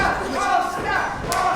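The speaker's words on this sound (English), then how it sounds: "Crowd here chanting for their champion." A wrestling crowd at a live show chants in unison for their champion, a loud, rhythmic wall of voices filling a short moment.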